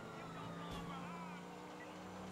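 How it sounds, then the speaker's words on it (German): A damaged car engine in a video game about street crime in the Russian Revolution gives a low, uneven droning hum with rough rattling undertones, steady and moderately quiet throughout. "Und das Auto hört sich gar nicht gut an."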